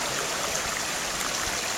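Babingley River water rushing steadily past an obstacle in the channel, a continuous close broadband wash with no pauses and no voices.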